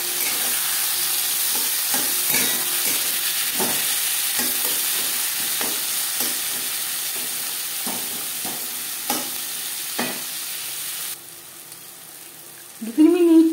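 Chopped onion and tomato fry in a pan for a fish and potato curry, a constant hiss with regular stirring knocks, then the sizzle drops off near the end.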